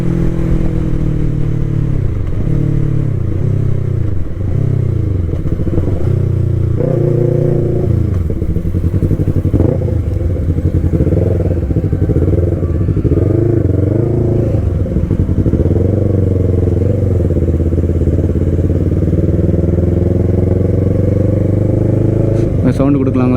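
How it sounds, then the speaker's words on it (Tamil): Yamaha YZF-R3 motorcycle exhaust revving repeatedly, rising and falling in pitch over a steady idle, loud and close, with some talk over it. "சவுண்டு கொடுக்கலாங்களா? Exhaust note."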